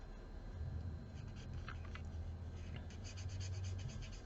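Felt-tip marker rubbing and scratching across paper card while little cylinder shapes on a handmade kindness card are colored yellow, a faint, steady scribbling texture close to the mic with soft background hum.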